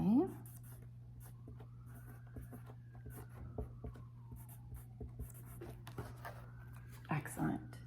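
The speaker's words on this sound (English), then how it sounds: "the first thing that you're going to do is write your name on the back." A marker or pencil writes a name on the back of a canvas, giving faint close scratching strokes over a steady low hum, with a brief voice and some handling noise near the end.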